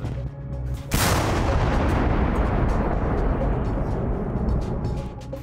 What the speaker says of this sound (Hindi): यूक्रेनी बंदरगाह शहर के चारों तरफ एक बड़े विस्फोट की आवाज गूंज उठी